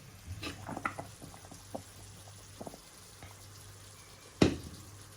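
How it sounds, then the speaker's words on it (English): Faint bubbling and soft popping of dumplings boiling in a pot of water, with scattered small patters and one louder knock near the end. "And I've got the dumplings there. They're still boiling."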